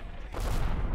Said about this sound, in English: We're being shelled right now.